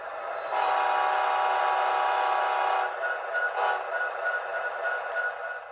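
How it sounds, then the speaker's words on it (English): A model locomotive sounds its horn in a steady, sustained tone that holds for a few seconds before shifting pitch and fading, heard alone and at moderate volume. "Let's have a wee honk of the horn at the end."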